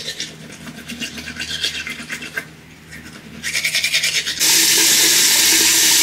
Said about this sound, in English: you gotta brush your teeth